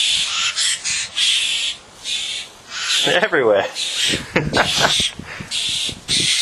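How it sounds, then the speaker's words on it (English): Birds, including a crow, call around a yard in Mildura: scattered harsh caws and squawks over a steady hiss of insects or wind, with a person speaking briefly between the calls. "fucking birds keep attacking me"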